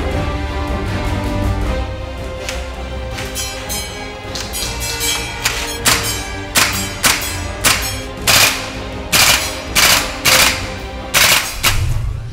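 A Cybergun FN SCAR Heavy gas blowback airsoft rifle fires in irregular single shots that become a steady rhythmic string of sharp cracks over a busy, continuous background of music.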